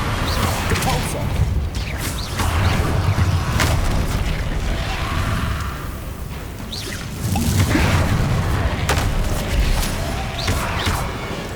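Repulsor spell blasts in Hogwarts Legacy combat: repeated loud booming impacts with whooshing sweeps and crashes over constant game noise, the heaviest surges arriving in two waves.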